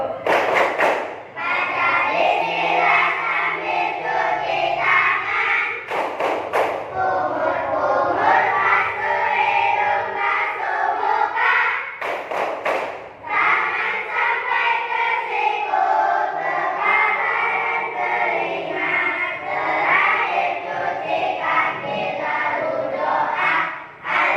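A class of students performs the tepuk wudhu clapping chant in a classroom, loud rhythmic group chanting punctuated by sharp claps.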